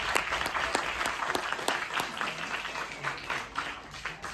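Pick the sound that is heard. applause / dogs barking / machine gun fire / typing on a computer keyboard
applause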